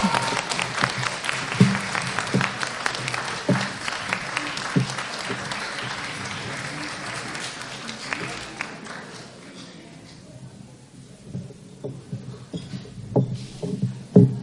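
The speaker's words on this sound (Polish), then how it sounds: "Wielkie brawa!" Applause for the winning rural women's association at a municipal contest, loud, dense clapping that thins and fades midway, then picks up again in sparser claps near the end.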